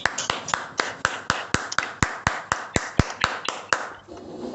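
Single person clapping to welcome guests on a Zoom call, about twenty sharp, evenly spaced claps, close and dry, fading into faint room noise at the end.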